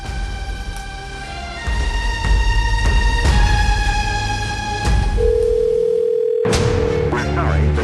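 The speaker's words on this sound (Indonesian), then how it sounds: "Coba saya telepon Mas Adrian." A telephone dial tone hums steadily while a call is being placed, loud and continuous, briefly changing pitch near the end before a recorded voice begins.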